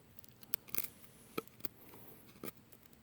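A Terävä Skrama bush knife chops into wood, giving a few sharp, separate impacts with crisp bright edges, fairly close and moderately loud, with quiet pauses between strikes and no talking.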